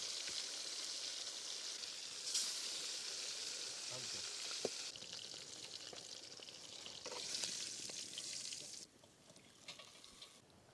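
Pieces of tandoori chicken fry in hot oil in a village-style outdoor kitchen, making a continuous soft sizzle that comes in waves, with occasional stirring clicks and scrapes.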